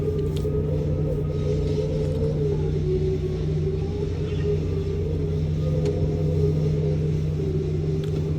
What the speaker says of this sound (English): Now you can hear the wind, hear that? There it is. Some serious wind.